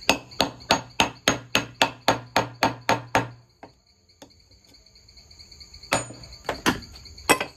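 A screwdriver and a small piece of wood are knocked against an iron disc from a CNC-made magnetic bottle opener, a fast even run of about a dozen sharp ringing taps, a pause, then a few more strikes, close and loud.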